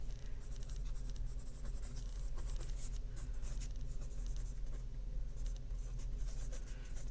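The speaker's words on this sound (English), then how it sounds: "I am going to write that common name up here on my paper before we move too much further." Pen writing on paper while labeling a damselfly illustration, a continuous scratchy stroking over a steady low background hum, close up with no talk.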